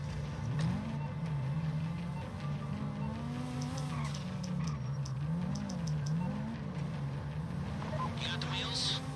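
A car engine in a bank heist video game revs up and down in wavering pitch, with tire noise in the background, while voices talk over it.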